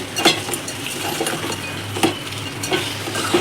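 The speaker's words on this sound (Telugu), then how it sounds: "బెల్లం వేసుకొని ఒక సెకండ్స్ అయితే ఇట్లా తిప్పుకోవాలన్నమాట ఇది కరగాలి ఇట్లా తిప్పాలి" A spoon stirs jaggery into a sweet mango pickle mixture in a pan, scraping and clinking at irregular intervals over a steady low sizzle.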